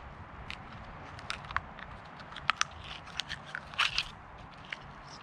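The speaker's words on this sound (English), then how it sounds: "I'm gonna take this knife and insert it right here into the hinge. Gently, and just twist." A knife blade is worked into the hinge of a shell and twisted to pry it open, giving scattered close crunches, clicks and small cracking snaps over a quiet background, with no talking.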